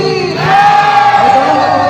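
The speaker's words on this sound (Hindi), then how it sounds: "एक बार जोर जोर जयकारा के साथ बोल दुर्गा मैया की" Festival crowd at a Durga jagrata night gathering in Chhattisgarh shouting a loud jaikara cheer in unison, a sustained massed roar of voices swelling after a brief lead-in and holding steady close by.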